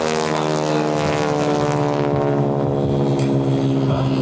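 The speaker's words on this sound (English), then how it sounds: "This aircraft that he is flying today, an SNJ Advanced Trainer" An SNJ Advanced Trainer, a Navy trainer once flown at Naval Air Station Pensacola, passes by at an airshow. Its propeller engine gives a loud, steady harmonic drone that fades a little toward the end.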